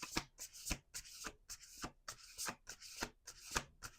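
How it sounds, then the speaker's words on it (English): Tarot-style cards being shuffled by hand: quick riffling bursts and soft rubbing strokes in an uneven rhythm, close and fairly quiet, with no talking. "We're going to do 2 more shuffles."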